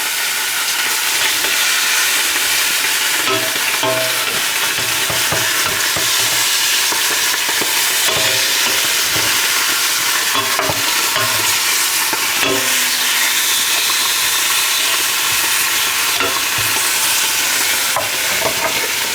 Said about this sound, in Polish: Tak się tutaj to wszystko smaży.